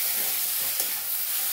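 Spice paste for a fish roe dish stirred and sizzling in a pan over low heat, a steady close hiss of frying with a soft scrape of stirring, no voices.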